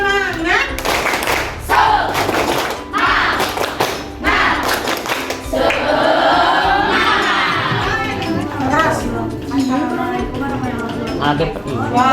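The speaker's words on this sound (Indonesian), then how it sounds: "Tepuk semangat." Junior high school students in a classroom do a rhythmic spirit clap, with sharp clap bursts in quick patterns mixed with shouting young voices and a lively crowd din throughout.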